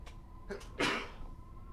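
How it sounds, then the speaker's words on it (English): A single quick sneeze bursts out after a short intake of breath, fairly close and over a quiet background. "And then, sneeze."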